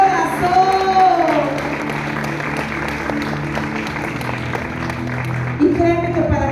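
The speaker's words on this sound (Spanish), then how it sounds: "dale un aplauso a Dios" A church congregation applauds in a steady sustained round of clapping, blended with music and voices, with a slight swell near the end.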